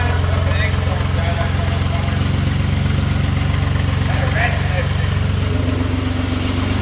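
A Triumph TR6 barn-find engine idles steadily and close by, a continuous low, even rumble with no breaks.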